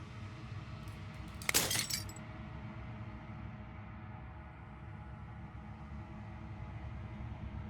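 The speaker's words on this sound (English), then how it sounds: "As the final fragment of glass shatters" Glass shatters in the video game Slay the Princess: a single loud, bright crash with a short scatter of fragments, standing out over a steady low ambient drone that carries on after it.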